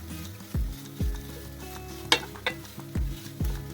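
Grated hill gooseberry frying in oil over medium gas makes a low, even sizzle, broken by several sharp, close knocks and scrapes of a spoon against the pan, with no voices.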